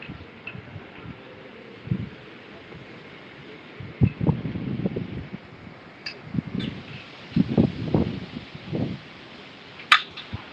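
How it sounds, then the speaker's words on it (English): Wind blows outdoors at an election site in Maverick County, a low steady rumble with gusty buffeting bursts against the microphone, mixed with faint rustles and a few brief clicks. "Lots of wind, lots of wind."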